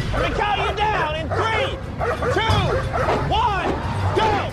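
Bandog dogs barking and yipping in rapid, overlapping bursts, loud and close, with excited whimpers mixed in and a murmur of people under the barking throughout.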